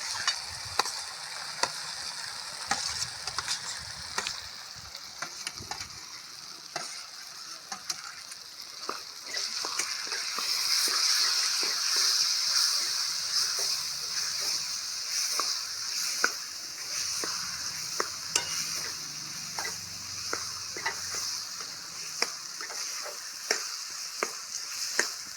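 Roasted eggplant for a Gujarati baingan oro stirred through a pan, with steady soft sizzling and repeated scraping clicks of the spoon over about twenty-five seconds, the frying growing a little louder midway.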